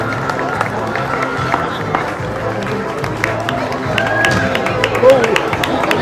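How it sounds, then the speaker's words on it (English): Crowd clapping and cheering at a Halloween costume contest, a steady mix of applause and noisy chatter that runs the whole time with voices talking over it. "You better clap for her."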